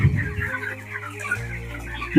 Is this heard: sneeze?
no